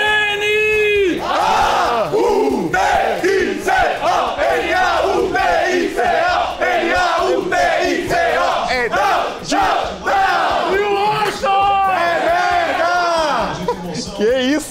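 Náutico football supporters roar, chant and cheer together in the stands, a loud, dense crowd sound with rhythmic shouted vocal bursts that stay strong and continuous throughout.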